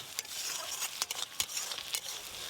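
A spoon works chili powder and gram flour into pieces of large grass carp fish, producing faint, quick scraping and sticky mixing sounds in an irregular rhythm, close and without voices.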